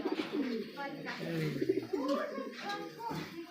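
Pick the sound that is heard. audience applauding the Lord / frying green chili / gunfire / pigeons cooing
pigeons cooing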